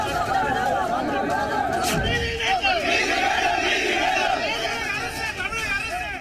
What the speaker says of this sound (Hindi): सड़क पर लोगों की भीड़ और पुलिस के खिलाफ नारेबाजी।